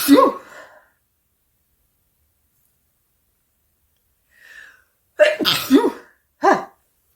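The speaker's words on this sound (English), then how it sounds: "I feel a second sneeze" A single sharp sneeze bursts out close by, followed by silence, then a soft breath and a few more throaty, sneeze-like bursts near the end.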